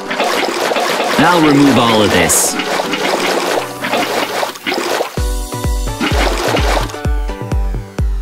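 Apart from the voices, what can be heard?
bucket scooping foul water out of a well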